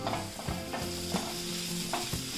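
Coriander powder is stirred into sautéed onions in a pan, a close, steady sizzle with several distinct scrapes of the spoon at irregular intervals.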